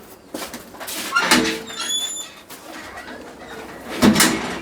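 Pigeons cooing nearby in soft, low bursts, with a squeaky chirp and some rustling and knocking in between.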